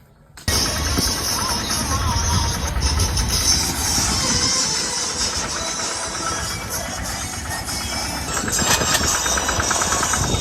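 A loud, rumbling tractor engine starts up and runs steadily with a knocking, chugging rhythm, close by, with some faint voices.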